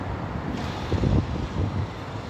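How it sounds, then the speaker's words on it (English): A green car passing along a city street near Chinatown, a low whooshing swell that rises and fades over a second or so amid wind noise on the microphone. "Where that noise is coming from, you can see a green car."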